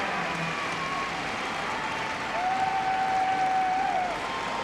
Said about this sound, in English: A big round of applause from this crowd.